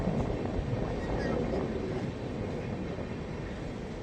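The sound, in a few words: passenger train travelling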